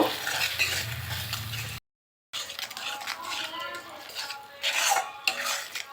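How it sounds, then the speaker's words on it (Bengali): Spice masala being stirred and fried in a pan over medium heat, with spoon scraping and clinking against metal and a soft sizzle under a voice talking, broken by a short silent gap. "আঁচ মিডিয়াম রেখে মশলাটা কষিয়ে নিচ্ছি মশলাটা তেল ছাড়া পর্যন্ত একটু কষিয়ে নেব"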